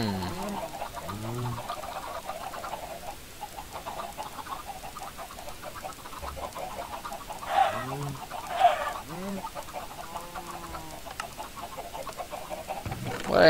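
Video-game chickens cluck repeatedly at a moderate level, with a few louder bursts near the middle and end, against steady background game ambience.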